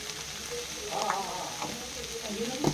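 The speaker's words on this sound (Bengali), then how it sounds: "এটা দিয়ে আবার নেড়ে নেওয়া হচ্ছে ভালো করে" A spiced vegetable mixture for sabji pithe, seasoned with ground black pepper, sizzles faintly in a pan while being stirred, with soft scraping touches over a low, steady frying hiss.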